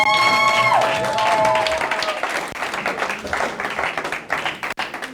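Congregation at a religious wedding ceremony breaking into loud, dense applause and clapping that fills the room, with a brief sung or called-out voice at the start and crowd noise underneath, tapering slightly toward the end.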